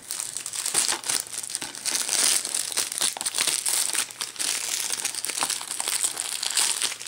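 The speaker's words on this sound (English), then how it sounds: "you can see the cellophane or shrink wrap is still on it. So we're going to go ahead and take that off now." Cellophane shrink wrap is peeled and crumpled off a new Uncharted 3: Drake's Deception game case, a close, dense crinkling and crackling that goes on without pause, with brief sharper tearing bursts.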